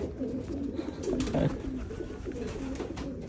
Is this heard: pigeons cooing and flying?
yes